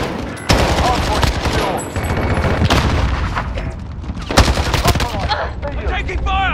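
Automatic gunfire in the Call of Duty Modern Warfare video game during a Hardpoint match, with loud close rapid bursts and sharp single shots that are nearly continuous, mixed with battlefield chatter and voice callouts.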